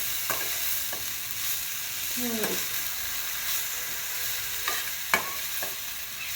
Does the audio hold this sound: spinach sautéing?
yes